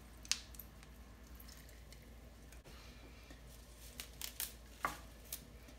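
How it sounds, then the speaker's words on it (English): Lime juice squeezed into a mini food processor makes soft, quiet squishes and a few small drips, scattered and close in an otherwise still kitchen. "Then I'm going to add the juice of a lime."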